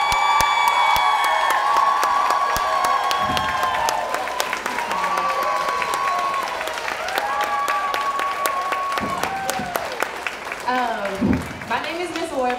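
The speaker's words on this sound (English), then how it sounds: "stand up for my babies and give them the biggest round of applause" Loud, sustained audience applause and cheering after a school Motown performance, with whoops and shouts rising over dense clapping that carries on for the whole stretch.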